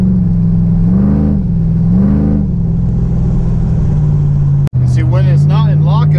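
A car engine with a big cam and a 3000 stall torque converter idles with a deep, lumpy rumble, then the revs rise and fall a few times, loud and close.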